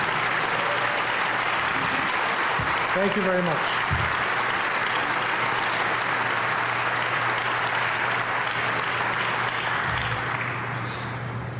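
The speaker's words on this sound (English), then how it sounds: "let's have one last round of applause for all the participating organizations in this year's event" Sustained applause from an audience at a community event honoring participating organizations, steady dense clapping filling the whole stretch, with someone briefly speaking over it and a low hum underneath.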